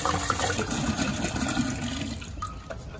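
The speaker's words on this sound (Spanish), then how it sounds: "voy a poner la olla con agua limpia" Clean water running into a cooking pot while making beef birria, a steady rushing pour that fills the whole stretch and eases slightly toward the end, with no one speaking.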